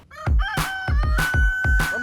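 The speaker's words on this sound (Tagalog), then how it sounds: "Hulihin ang manok." Chickens cluck loudly and a rooster crows in a series of bursts while being chased on a Philippine farm, close and continuous.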